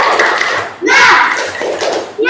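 A classroom of pupils doing the rhythmic 'tepuk semangat' clap routine at the start of a lesson, bursts of clapping mixed with children's chanting voices, fairly close and loud.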